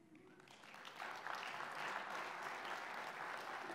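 Applause for a graduation, starting as a soft patter and swelling after about a second into a full, steady round of clapping from a gathered crowd, moderately distant.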